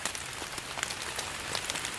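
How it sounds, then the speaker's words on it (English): Steady heavy rain patters on surfaces close by in the woods, a dense crackle of drops with no voices. "2 heavy downpours"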